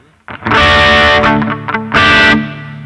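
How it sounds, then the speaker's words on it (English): Electric guitar through a tube driver distortion effect on a Line 6 HD500X, loud saturated chords ringing out, a pause with a few picked notes, then another sustained distorted chord. "let's add a distortion here. There's a tube driver"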